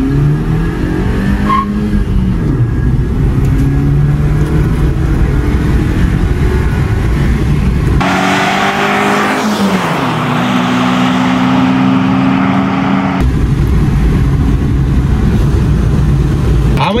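Swift Dzire 2020 and Baleno 2020 cars accelerating hard side by side in a drag race, engines revving loudly and rising through gears with a brief tire squeal, continuous and close throughout.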